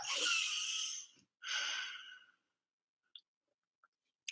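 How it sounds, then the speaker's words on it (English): A person gives a closed-mouth yawn, two breathy, muffled exhalations close to the microphone, followed by quiet with a few faint clicks. "That was a yawn with my mouth closed."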